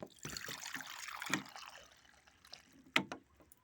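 Water is poured and trickles into a pan of cooking malunggay with egg, faint splashes and dribbles close by with a few small clinks in between.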